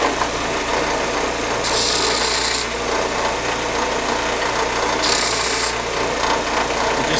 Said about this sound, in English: One of the last things that I always do on these is deburr this edge